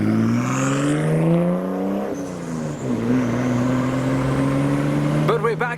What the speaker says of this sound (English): Here comes the R34.